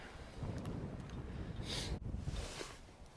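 Blustery coastal wind at Beadnell Point, Northumberland, buffets the microphone in low rumbling gusts, with a couple of louder surges across the short stretch.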